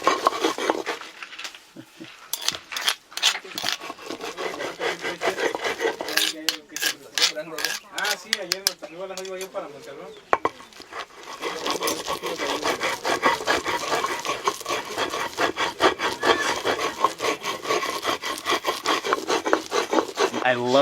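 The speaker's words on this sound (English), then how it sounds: "I love the sound of that rock on rock, but then with the squishing sound of those chilies in between the rocks." Dried chilies for Oaxacan mole ground on a grinding stone, rock scraping over rock in repeated rough, rhythmic strokes with soft squishing between, close and moderately quiet.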